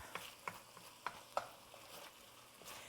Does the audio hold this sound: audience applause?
no